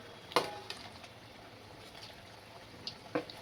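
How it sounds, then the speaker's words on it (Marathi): Shankarpali pieces of sweet dough fry quietly in oil on low heat, giving a faint steady sizzle with a few sharp pops and crackles. "शंकरपाळी घ्यायच्या आणि अशा तेलात सोडायच्या"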